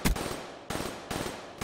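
Video game gunfire rattles in three fast automatic bursts separated by brief gaps, loud and close, with no talking.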